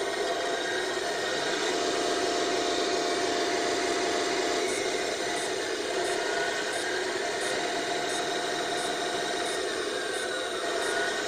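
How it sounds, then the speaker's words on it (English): A battery-powered RC truck's electric motor runs with its add-on sound system switched off, giving a steady whine and hum that holds at an even level throughout, with no talking. "what if I'll turn that down so we can hear the actual motor?"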